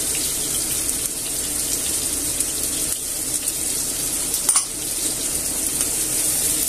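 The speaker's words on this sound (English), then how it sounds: "And in this same oil, I'm going to fry the onion" Onion and garlic fry in oil in a pot, a steady broadband sizzle that stays even and close throughout, with a brief clink near the middle and no talking.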